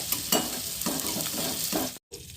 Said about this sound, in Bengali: সব পনিরগুলোকে হালকা করে একটু ভেজে নেব। লো ফ্লেমে দিয়ে ভাজাটা ভাজবো